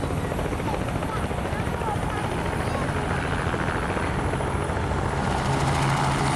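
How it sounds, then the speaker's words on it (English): Helicopters landing and taking off in steady succession at a busy airshow, several at once, their rotor and engine noise forming a continuous loud drone with thudding beats throughout. "there were helicopters, 3 or 4 landing at a time every few moments"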